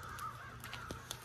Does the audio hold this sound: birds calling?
yes